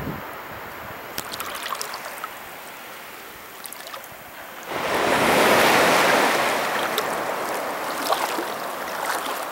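Surf rolling onto Ao Yai beach on Koh Phayam, Thailand, a steady wash of waves with some wind on the microphone, swelling into a louder breaking surge midway.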